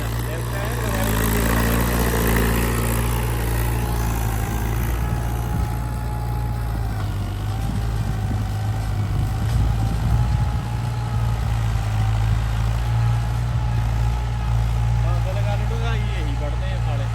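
A tractor engine runs steadily while pulling plough discs through a field, a loud continuous close drone with people talking over it throughout.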